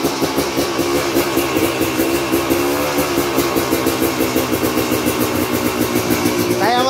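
A Kawasaki KDX 200 two-stroke motorcycle with a racing exhaust runs steadily up close, its loud, raspy engine note pulsing evenly throughout with a few light revs.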